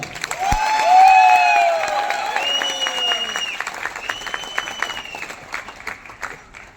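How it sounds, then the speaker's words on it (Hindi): A burst of enthusiastic applause from a crowd at a coaching-class meet-up in Prayagraj, swelling quickly then tapering, mixed with cheering tones and electronic swoops. "रोहित सर के लिए जोरदार तालियां।"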